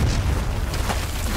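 A big explosion in the video game Uncharted 4: A Thief's End, a loud, dense, roaring boom with crackling debris, filling the whole moment without speech.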